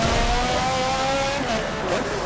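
Indy car racing engine in the Forza 7 video game, a continuous loud high-revving drone with shifting pitch and a faint tire squeal near the end, no talk.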